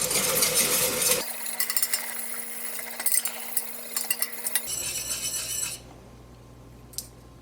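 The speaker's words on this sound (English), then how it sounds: "Next, I'm whisking in 1 1/4 cups of warm milk." Warm milk whisked into a roux for beer cheese, with a whisk clinking and scraping rapidly against a pan in busy bursts that thin out to quieter stirring.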